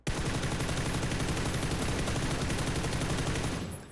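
Sustained automatic fire from an M4 rifle in PUBG, a dense rapid stream of shots held loud and close for nearly four seconds before cutting off.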